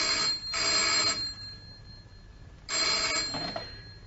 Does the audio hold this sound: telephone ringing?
yes